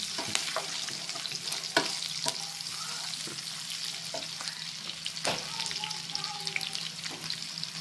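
Pork pigado frying in plenty of oil while being stirred, a steady loud sizzle throughout with occasional scraping clinks of the utensil against the pan.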